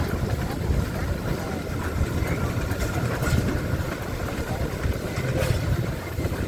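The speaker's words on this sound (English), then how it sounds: "This next steam engine coming through is also a Nicholson Shepherd." A two-cylinder Nichols and Shepard steam traction engine rumbles steadily past at close range in a vintage machinery parade, a low chugging drone with faint hissing and clanks, holding a constant level.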